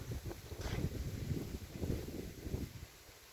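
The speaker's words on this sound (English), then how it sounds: "Very windy day today." Strong wind on a very windy day buffets the microphone outdoors, with loud rumbling gusts and rushing noise that rise and fall before easing off near the end.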